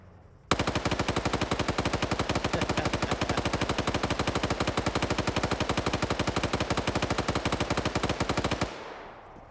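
Sustained automatic gunfire in a shooter video game, a rapid, evenly spaced stream of loud shots that runs for about eight seconds without pause, then cuts off abruptly into a brief fading tail.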